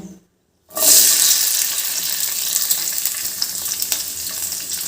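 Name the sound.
sautéing capsicum pieces in a pan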